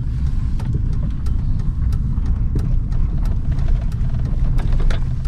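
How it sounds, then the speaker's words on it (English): A car drives along at low speed, its engine a close, steady, loud rumble under constant road noise as it heads into a parking spot outside a closed business. No voices are heard. "I'll just park up here."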